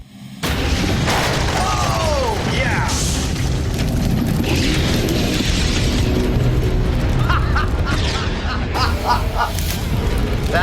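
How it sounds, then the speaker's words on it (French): Methane and air mixed at an ideal ratio detonate inside a house, blowing out the whole front facade with a loud boom, then sustained rumbling, crackling debris and shattering for several seconds. "On a fait exploser toute la façade avant"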